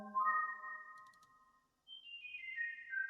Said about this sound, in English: I've added this second bell just because I feel like it complements the other one really well